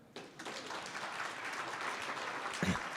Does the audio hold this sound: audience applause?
yes